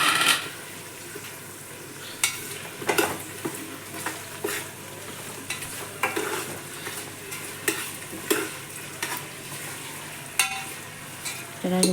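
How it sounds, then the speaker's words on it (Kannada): Chopped onions and green chillies fry in a pan for chicken biryani, a steady close sizzle broken by repeated scraping stirs and clinks of a spoon against the pan, with no talk. "ಇದನ್ನು ಸ್ವಲ್ಪ ಕಲರ್ ಬರೋವರೆಗೂ ಹುರ್ಕೋಬೇಕು"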